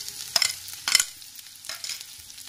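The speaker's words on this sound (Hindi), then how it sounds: "तेल हमारा अच्छे से गर्म हो गया है, तो इसमें हम जो लहसुन लिया था कटा हुआ, इसको इसमें डाल देंगे।" Chopped garlic and grated ginger frying in hot oil in a pan while making pasta: a steady, close sizzle with a few sharper stirring scrapes and crackles, and no voice.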